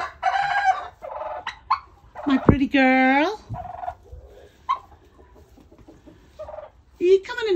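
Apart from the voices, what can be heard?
roosters crowing and clucking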